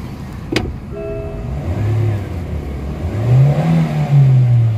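A Morris Garages car engine with a throttle delay issue revs up and down between 3,500 and 4,500 RPM in rising, sustained pulls, loud and close, after a sharp click at the start.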